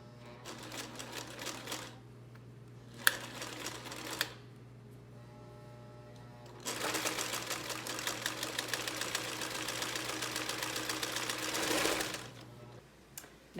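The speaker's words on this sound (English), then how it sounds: "we'll get started with sewing this onto the new curtain" A sewing machine stitches a curtain strip onto a new camper curtain in several bursts, with short runs early on, then one long steady stitching run, all over a constant low motor hum.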